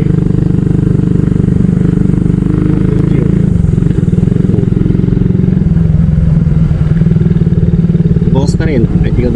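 A motorcycle with a broken clutch cable, push-started, its engine running loud and steady at close range throughout, with someone talking over it.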